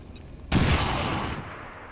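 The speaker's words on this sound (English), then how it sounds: "we're gonna go ahead and blow a grenade on this" A grenade goes off in the video game XCOM 2 as a single sudden, loud, booming blast, followed by a rumbling decay that fades over about a second.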